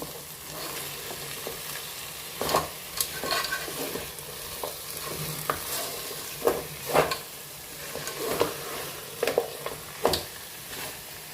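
A spoon scrapes in repeated, uneven strokes as crab pieces for an Andhra Godavari-style crab curry are stirred in a pan, over a steady low sizzle, close up with no talking.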